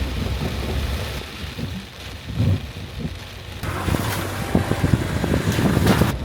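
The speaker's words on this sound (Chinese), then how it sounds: "但是现在下雨下来大雷。" Steady heavy rain with gusting wind on a high-altitude Tibetan wetland, a deep rumble of thunder rolling through partway and the downpour growing louder toward the end.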